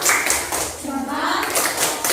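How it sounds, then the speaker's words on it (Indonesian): Schoolchildren in a classroom clap for a presenting group, with a few sharp bursts of hands mixed with children's voices chattering throughout. "tepuk tangan untuk kelompok 1"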